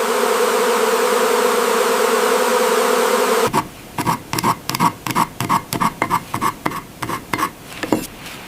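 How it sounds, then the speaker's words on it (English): Honey bees on an isolated farm hum in a dense, steady buzz for a few seconds, then give way to close, rhythmic scraping and rubbing bursts repeating roughly every half second. "It seems my bees are very busy."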